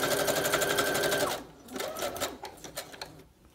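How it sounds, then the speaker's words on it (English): A sewing machine stitches junk journal embellishments with transparent wings, a fast steady run of needle strokes that stops, then gives way to several short, uneven bursts of stitching up close. "we'll just go ahead and start with this and sew this together."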